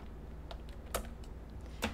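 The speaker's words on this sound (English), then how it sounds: "there was something stuck on my keyboard" Computer keyboard keys are pressed in a few sparse, crisp clicks at close range over a quiet background hum.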